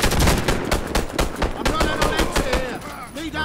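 Gunfire from the video game Warface: rapid automatic bursts of shots, loud and continuous, with brief gaps between volleys.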